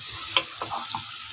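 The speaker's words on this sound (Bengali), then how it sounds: "এখন ভালোভাবে নেড়ে মিশিয়ে দিব এই লবণ।" Desi chicken being stirred with salt in a hot frying pan, a bright continuous sizzle with one sharp utensil scrape early and softer stirring sounds after.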